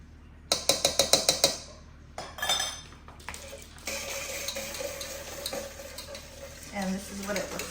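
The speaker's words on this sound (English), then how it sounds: "you just pretty much have to whisk it in" A whisk stirs freeze-dried strawberry powder into an ice cream base, with a quick run of sharp metallic taps against the bowl followed by scraping, splashy stirring, close and clear.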